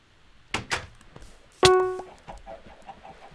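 Chickens in a Minecraft-style video game map make a couple of soft clucks, then one louder, sharper squawk. The sounds come as short, separate bursts in a quiet game scene.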